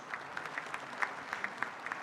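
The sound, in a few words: applause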